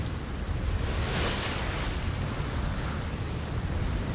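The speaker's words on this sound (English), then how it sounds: "look at these waves. We're back with the massive waves." Massive ocean waves roar continuously in the Atlas sailing game, a loud, steady broadband wash of surf and wind with a swelling crest around the middle, no talk heard.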